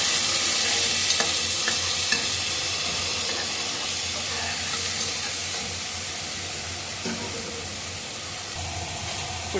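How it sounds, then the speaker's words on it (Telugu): Onion paste frying in a pan with a steady, close sizzle and hiss, broken by occasional scraping stirs throughout. "ఇప్పుడు ఆనియన్ పేస్ట్ కూడా వేసేస్తున్నామండి. ఇది కూడా కొంచెం సేపు వేగాలండి."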